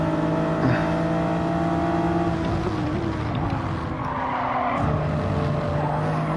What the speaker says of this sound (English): All I hear is the tires of the car behind me.